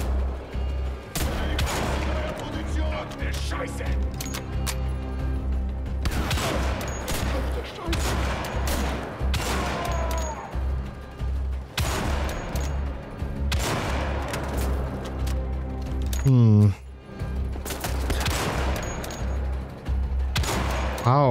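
Repeated loud rifle shots from Wolfenstein: The Old Blood ring out in irregular bursts amid continuous game noise, with a deep low drone underneath and a brief sweeping effect near the end.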